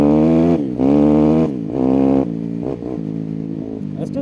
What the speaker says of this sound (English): That's just getting onto the throttle a little bit.